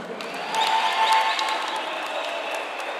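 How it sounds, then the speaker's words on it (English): A crowd at a South African joint voter registration event applauds the catering organizers, a moderate wash of clapping with a light crowd murmur that swells briefly and then holds steady. "Give them a round of applause."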